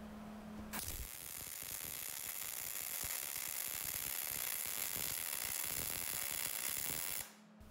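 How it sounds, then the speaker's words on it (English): Ford 9-inch rear axle tube being fully welded, a loud continuous crackling sizzle of the arc that starts abruptly, holds steady for several seconds up close, then cuts off. "Then came the time to fully weld it."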